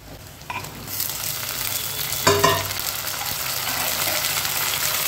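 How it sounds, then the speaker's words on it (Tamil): Onion and tomatoes fry in oil in a clay pot, a loud, dense sizzle that swells as more goes in, with a brief clatter of stirring near the middle. "இந்த தக்காளி வந்து இப்போ சேர்த்து தக்காளி நல்லா சாஃப்ட் ஆகிற வரைக்கும் நம்ம வதக்கி எடுக்கணும்."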